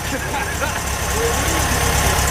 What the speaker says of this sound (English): it finally has that classic 911 air-cooled sound.